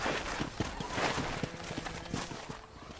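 Horse hooves clip-clop in a steady walking rhythm in Red Dead Redemption, close and clear over a faint outdoor game ambience, with a few sharper knocks among the steps.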